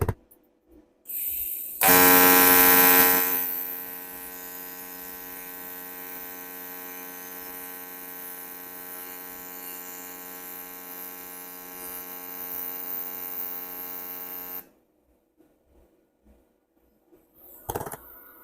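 Balmer JOY TIG 230P inverter running an AC TIG welding arc on a sine wave at 100 Hz, a steady buzzing hum with strong harmonics lasting about twelve seconds, starting with a brief louder burst and ending abruptly, alone without talk.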